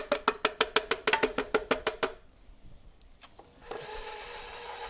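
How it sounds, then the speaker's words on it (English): An electric mixer with a paddle attachment mixes the dry ingredients for keto jalapeño cornbread, starting as a steady motor whir about halfway through, after a run of quick rhythmic knocks and a short quiet gap. "I'm using a paddle mixer in this"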